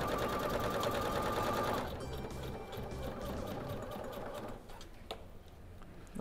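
Sewing machine fitted with a roller presser foot stitching steadily, a continuous loud mechanical whir that eases slightly partway through, with no talk over it.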